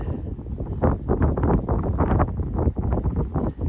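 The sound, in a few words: wind blowing in a field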